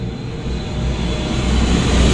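Airplane passing over a house in the Philippines, a steady, loud broadband roar that builds slightly, with no talk over it.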